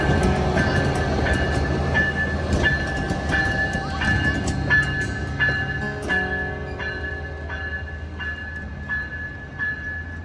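A train rumbles and clanks steadily as it moves off, wheels clicking at regular intervals while the noise slowly fades into the distance.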